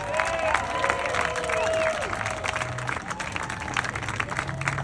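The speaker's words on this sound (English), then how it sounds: "Let's give them a big round of applause." A crowd at a mural dedication applauds the cooks and servers with dense, steady clapping and some cheering that fills the whole stretch, with a few voices mixed in.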